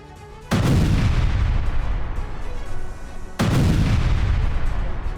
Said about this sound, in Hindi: देसी बम फेंककर भाग जाता है। धमाके के बाद इलाके में धुआं फैल जाता है।